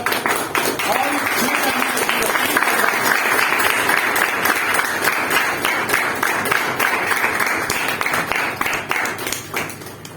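A crowd at a business meeting in Kondagaon breaks into loud, sustained applause, steady dense clapping that runs on for about ten seconds before starting to taper off.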